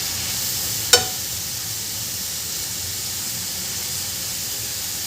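Spinach soup simmers in a pan on a gas stove. A steady, soft hiss of bubbling and steam runs throughout, broken once by a single sharp click near the start.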